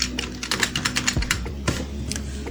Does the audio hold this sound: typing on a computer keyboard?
yes